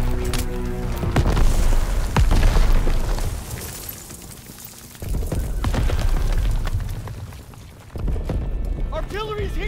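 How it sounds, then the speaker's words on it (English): Artillery shells pound a beach in Call of Duty WW2, with heavy rumbling booms rolling in three big waves amid battle noise and shouting soldiers. "Artillery's hitting the beach!"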